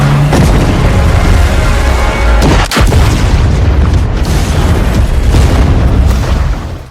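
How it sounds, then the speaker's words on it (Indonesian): A gas cylinder detonated as a bomb in an action film, heard as a loud, sustained boom with a sharp blast partway through, set in a dense, roaring cinematic mix with no speech. "dengan meledakkan tabung gas tadi"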